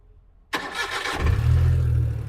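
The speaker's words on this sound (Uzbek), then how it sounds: "0 dan 100 gacha motor qilib, bir ovozini eshitib ko'ramiz endi" A Damas minivan's injector engine cranks and fires after a moment of near silence, a short burst of starter clatter giving way to a steady, loud low idle close by.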